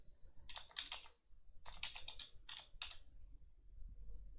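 Bursts of key clicks on a computer keyboard typing a command, close and fairly quiet, in three short clusters separated by brief pauses.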